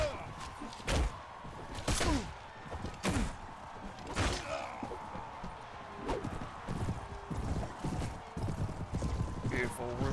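Horse hooves clip-clop in the video game Prophesy of Pendor during a tourney, a series of sharp irregular thuds and knocks spread across the clip, mixed with game sounds and someone talking.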